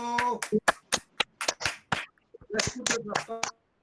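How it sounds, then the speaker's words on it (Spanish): Congregation at an evangelical church service clapping hands in sharp, separate claps at an uneven rhythm, with a voice calling out over and between the claps before the sound stops. "Dale palmas a Cristo"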